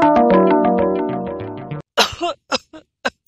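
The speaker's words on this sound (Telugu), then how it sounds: "వీళ్ళు దగ్గుతున్నారా సైకిల్ చేసుకుంటున్నారా?" People coughing on a comedy stage: a sustained musical tone fades out, then several sharp, close coughs follow in an irregular burst of four or five, loud and alone.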